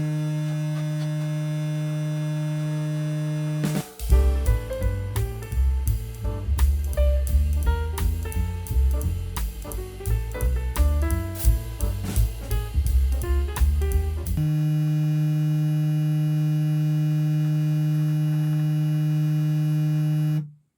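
A Stylecraft 360 Jeezy cordless hair clipper, fully charged and held in a clamp, runs with a steady, close electric motor hum that continues alone at the start and end, with music playing over it in the middle.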